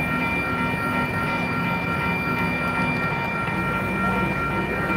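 Union Pacific 4014 Big Boy steam locomotive rolls past in Baldwin, Wisconsin, a steady loud rumble of wheels and cars with a constant mechanical hum and no voices.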